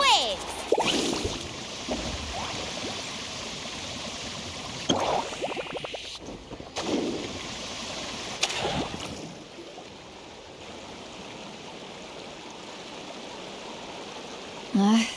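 A surfboard carves through water waves in the Genshin Impact video game, with rushing splashes and swooshes pulsing under in-game voices and music.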